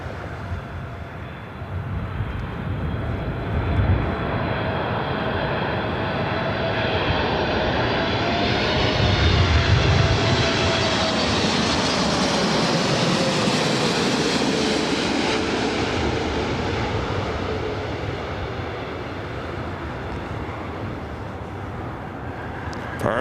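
A United jet airliner lands on runway 24 right at LAX, its engines roaring loudly and steadily throughout as the noise rises and falls with the aircraft's passage, no voices.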